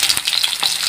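Pieces of bhola fish fry in hot mustard oil with a dense, steady sizzle and crackle that stays loud and close throughout, with no voices.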